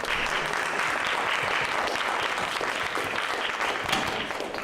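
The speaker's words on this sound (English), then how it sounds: "So a round of applause for the panelists." Audience applause for a panel of speakers at an identity-narratives event, a dense, steady wash of many hands clapping at close range, continuous and even throughout without any talk over it.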